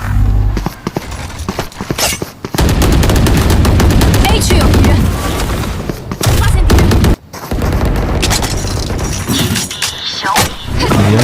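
Sustained automatic machine gun fire in the mobile shooter Valorant Mobile, loud and nearly continuous for long stretches, with brief pauses and sharp bursts near the end.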